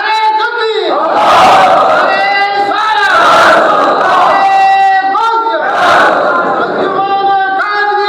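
A large crowd at a religious gathering roars a takbir response in unison, loud sustained chanted swells repeating in waves, close and filling the space.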